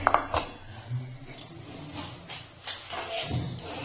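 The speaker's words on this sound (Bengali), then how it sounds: "এখন আমি কেক টিনটাকে দিয়ে দিচ্ছি, সাবধানে দিতে হবে।" A metal cake tin is set down inside a preheated kadai for an eggless Bapuji cake, giving a few metallic clanks and scrapes, some sharp, others soft, with pauses between.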